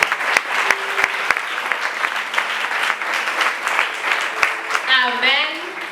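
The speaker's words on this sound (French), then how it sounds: "Bien-aimé, acclame la parole de Dieu." A church congregation claps together in a dense, sustained round of applause that fills the room, while a voice rises over the clapping near the end.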